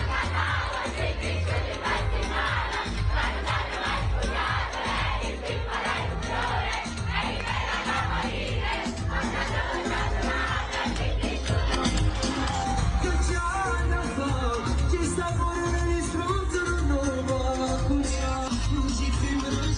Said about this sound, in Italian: Ad Ercolano una folla osannante ha partecipato a una performance abusiva